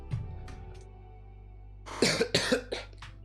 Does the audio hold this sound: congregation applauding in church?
no